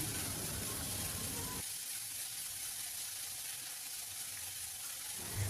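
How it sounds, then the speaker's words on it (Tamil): Onions sizzle in a pan as they sauté for aloo paratha stuffing. The steady hiss is interrupted midway by a longer, quieter stretch of faint frying. "வெங்காயம் நல்லா வதங்கி வரட்டும்"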